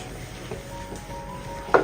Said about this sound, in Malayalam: ഒന്ന് ഇളക്കി യോജിപ്പിച്ചെടുക്കുക.